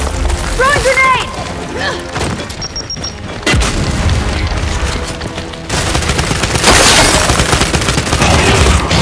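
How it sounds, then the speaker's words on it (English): Grenade blasts and heavy weapon fire in Gears 5 combat, with deep booms and dense crashing bursts, loud and close, continuing with rising intensity toward the end. "Throwing grenade!"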